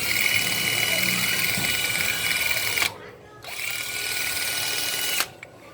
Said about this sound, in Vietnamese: Đó là máy cưa lộng ha.